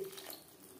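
Water pours into a pan of small fish curry cooked with little oil and spice, a brief soft splashing trickle heard up close and faint, with no talk.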